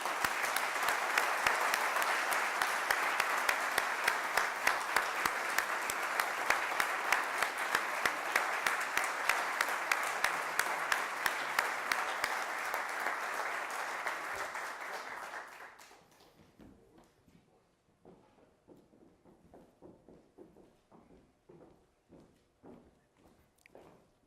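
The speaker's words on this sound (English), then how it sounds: "Let's give them a round of applause, please." A hall full of people at a military officer basic course graduation ceremony gives a dense round of applause that holds steady, then fades after about fifteen seconds into a few scattered, lingering claps.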